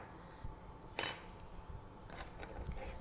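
Cut ingredients for a homemade cold and cough remedy tipped into a metal kitchen vessel, giving one brief, close clink and clatter followed by quieter handling rattles.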